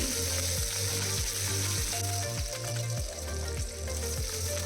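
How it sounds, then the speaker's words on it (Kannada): Mustard, ginger, garlic, onion and curry leaves fry in oil for a fish roast, a steady close sizzle with a rhythmic ticking, scraping pulse running underneath, with no one talking. "ಇದಕ್ಕೇ ಮಸ್ಟರ್ಡ್ನ ಹಾಕ್ಕೊತಾ ಇದ್ದೀನಿ ಇದ್ರ ಜೊತೆಗೇ ಚಿಕ್ಕದಾಗಿ ಕಟ್ ಮಾಡಿರೋ ಜಿಂಜರ್ ಗಾರ್ಲಿಕ್ ಆನಿಯನ್ ಸ್ವಲ್ಪನೇ ಸ್ವಲ್ಪ ಕರಿ ಲೀಫ್ನ ಹಾಕ್ಕೊಂಡು ಫ್ರೈ ಮಾಡ್ಕೊತೀನಿ"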